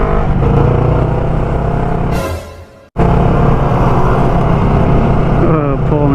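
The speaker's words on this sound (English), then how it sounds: "Look at this car, man." A motorcycle engine, a Yamaha R3, roars loudly and steadily with a harmonic drone, dips briefly near the middle, then picks back up. The engine note rises toward the end and no one speaks.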